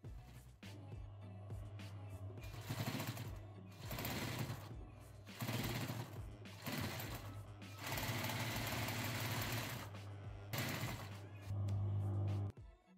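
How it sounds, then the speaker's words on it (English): A sewing machine stitches around the edges of a shirt cuff in bursts of steady whirring, stopping and restarting several times, close up with a low motor hum. "Once the cuff was on, I sewed round all the edges of the cuff."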